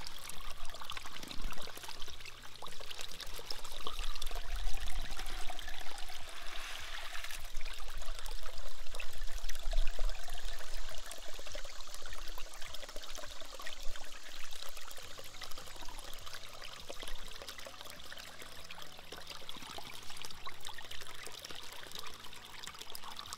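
A bucket of gravel and water pours through a Dream Mat gold sluice, a continuous rushing, splashing stream that swells and stays steady for over twenty seconds, close and without talking.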